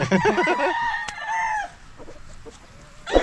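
A gamecock rooster crows once loudly and close, its call dropping away after about a second and a half, followed by a quieter stretch with faint clucks and a sharp knock at the end.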